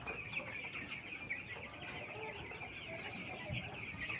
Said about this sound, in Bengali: আমার হাতও পড়ছে 3 পাওয়ালা মুরগি।